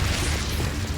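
A Confringo fire-blast spell bursts in Hogwarts Legacy, a loud booming explosion with heavy low rumble filling the whole moment, sustained and close with no talk over it.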